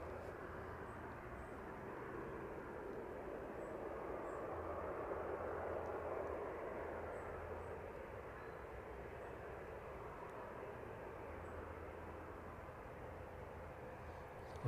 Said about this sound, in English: Just hear the engines making their way up the taxiway now.